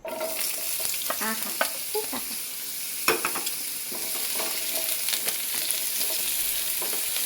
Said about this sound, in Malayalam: നമുക്ക് ഈ ഒരു എണ്ണേൻ്റെ അകത്ത് നമുക്ക് മാങ്ങിയിട്ട് കൊടുക്കാം